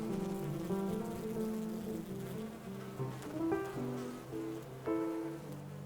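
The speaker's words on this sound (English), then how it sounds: "it's a very happy bee, sort of jumping from flower to flower" A bee buzzes among flowers outdoors, a soft wavering drone that rises and falls as it moves close and away, steady through the background.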